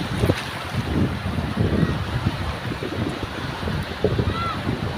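Sea waves at the shore roll in with low, rumbling surges and washes, carried under gusty wind buffeting the microphone, loud and close.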